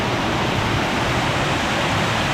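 Mingo and Soco Falls waterfall near Cherokee, North Carolina, heard close at the base as a loud, dense, unbroken roar of pouring water.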